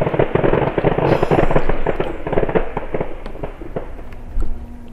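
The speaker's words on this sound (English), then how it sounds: "So we've been sitting here listening to the machine guns." Distant machine gun fire from Marine training at Parris Island, coming as dense, irregular rapid bursts of popping reports that run continuously and echo across open ground, with no one speaking.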